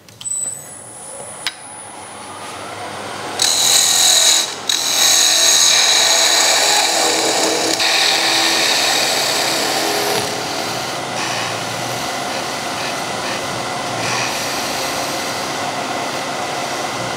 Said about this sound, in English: So now we can finish and sand the underneath.